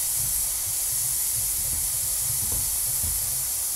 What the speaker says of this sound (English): I'm gonna do this carefully such that this steam shooting out of here doesn't burn me.